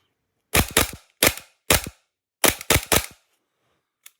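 A VFC Umarex Glock 18c airsoft pistol converted to an FMG9 fires in semi-auto, seven sharp snapping shots in two quick bursts of three and four, loud and close.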